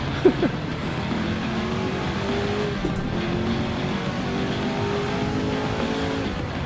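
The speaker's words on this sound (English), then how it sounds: "We've got a Ferrari coming up" Ferrari race car at the 1966 Daytona 24-hour race in Assetto Corsa, a steady droning engine with layered whine and brief tire chirps early, the car holding a constant roar as it closes in.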